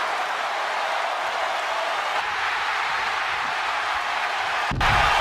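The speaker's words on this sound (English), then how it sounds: "The crowd is getting loud." Wrestling arena crowd at a TLC qualifying match, a steady loud roar of cheering that holds throughout and swells briefly near the end.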